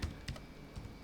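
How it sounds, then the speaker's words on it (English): Quiet computer keyboard typing as data is entered, a few soft, close keystrokes spaced unevenly. "you just simply type in your data"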